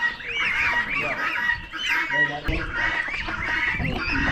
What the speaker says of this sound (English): Some more quarter-grown geese.